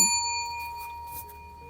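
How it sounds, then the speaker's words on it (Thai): Notification bell sound effect rings a single bright metallic ding with sustained tonal overtones that slowly fade, with no talking. "กดกระดิ่ง"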